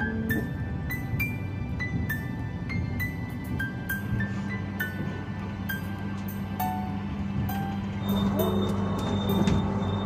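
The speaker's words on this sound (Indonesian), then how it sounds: "KA Bogowonto kembali diberangkatkan dari Stasiun Kutoarjo, Kabupaten Purworejo jam 4:41" The KA Bogowonto economy train departs Kutoarjo station in Purworejo: a steady rumble of rolling carriages with repeated wheel clicks and occasional squealing tones, heard from inside, continuous and moderately loud.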